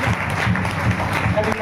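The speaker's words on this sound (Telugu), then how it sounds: "చప్పట్లు కొట్టుందండి" A church congregation claps together in a brief burst of loose, close applause while someone talks over it.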